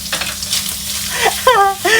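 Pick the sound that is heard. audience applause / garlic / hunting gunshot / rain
garlic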